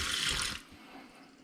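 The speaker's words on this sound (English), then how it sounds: "so I'm going to turn a little bit of water on here" Water runs from a tap onto an upside-down tobacco pipe being restored, a steady loud splashing hiss that cuts off abruptly, leaving quiet room tone.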